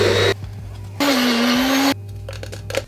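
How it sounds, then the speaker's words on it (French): A kitchen blender grinds pistachios into a paste with a spoonful of oil, running in loud bursts of harsh whirring that start and stop, close up with no talk. "Ensuite, il faut mixer nos pistaches et y ajouter une cuillère d'huile."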